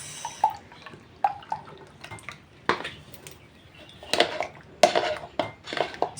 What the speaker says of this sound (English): I'm going to use this sieve and sieve it here, just like this.